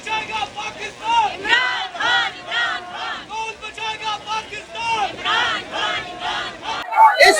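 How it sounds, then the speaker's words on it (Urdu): A protesting crowd outside an ATC court chants slogans in loud, rhythmic unison, the bursts of shouting repeating steadily and close by. "اس وقت ATC کورٹ کو پور مکمل طور پر گھیر لیا گیا ہے اور نعرے بازی لگائی جا رہی ہے"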